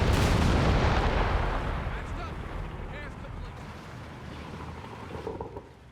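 Tank cannon fire in the strategy game Company of Heroes 3, with Hellcat tank destroyers engaging a Matilda tank: a loud heavy boom opens the clip, then fades into rumbling battle noise under a commentator's voice.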